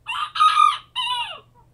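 A rooster crows once at a farm at dawn, a loud close cock-a-doodle-doo in several bursts ending in a falling trail, over a faint low hum.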